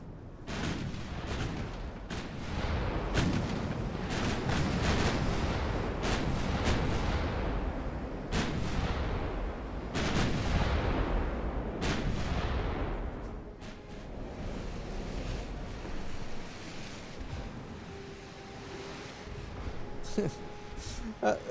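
Battleship guns in the naval video game Ultimate Admiral: Dreadnoughts fire in repeated heavy booms, sharp reports spaced every second or two over a rumbling bed, thinning out toward the end.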